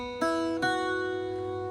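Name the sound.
Irish bouzouki playing Shaskeen Jig notes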